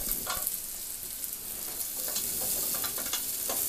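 Food stirred without pause in olive oil and quail juices in a pan, giving a steady close sizzle with occasional scraping strokes of the utensil, no voices.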